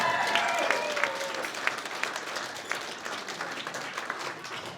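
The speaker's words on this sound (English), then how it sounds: "Applause for that!" A crowd at a wedding applauding steadily for a few seconds, with a few cheers and whoops rising over the clapping.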